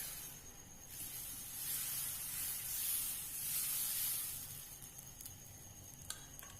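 Bhagrir appam batter spread across a hot frying pan, giving a close, steady sizzling hiss that swells and eases over several seconds, with a faint click near the end and no voices.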